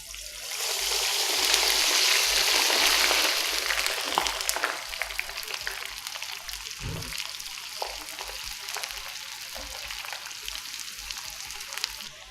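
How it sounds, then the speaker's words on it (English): French fries fry in oil heated above 200 degrees Celsius, giving a loud, dense sizzling hiss that swells early, then settles into a steady bubbling crackle with small pops throughout. "About 30 seconds in the oil and our french fries are done"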